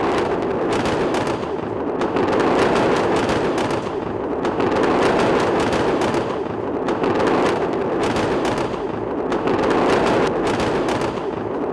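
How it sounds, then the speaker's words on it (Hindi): Heavy bombardment and rocket strikes on southern Lebanon and Beirut make a dense, continuous roar of booming impacts and rumbling blasts, loud and unbroken, with no voices. "इजरायली सेना ने दक्षिणी लेबनान और राजधानी बेरूत के इलाकों पर भीषण बमबारी की है।"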